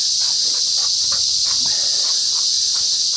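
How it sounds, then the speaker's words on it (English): Cicadas in a loud, continuous high-pitched drone filling the air nearby, with faint rhythmic footsteps or rustling beneath it. "Oh, cicadas are strong in here."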